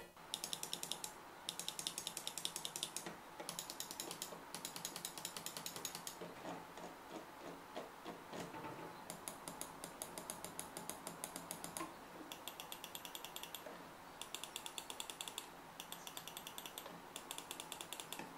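Rapid, crisp plastic clicking close up from a Xenics Titan G gaming mouse, bursts of quick taps separated by short pauses, with no talking.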